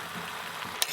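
Chicken pieces frying with spices and Kashmiri red chili powder in a clay pot, a steady close sizzle with a brief sharp scrape of stirring near the end and no talking.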